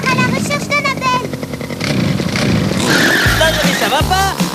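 A cartoon scooter roars off with skidding, squealing tires over bright music and character voices, then two deep engine bursts near the end.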